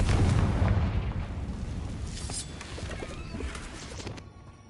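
A Confringo blasting spell from the Hogwarts Legacy video game detonates with a loud booming explosion at the start, then its rumbling, crackling debris tails off and fades over a few seconds.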